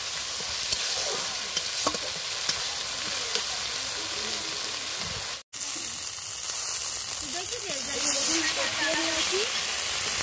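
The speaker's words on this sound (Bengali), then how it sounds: "এটাকে একটু কষিয়ে নেব আদা রসুন আর পেঁয়াজটাকে।" Ginger, garlic and onion sautéing in a pan for a Bengali fish curry, a steady sizzle with stirring scrapes throughout and a brief dropout midway, with no talk.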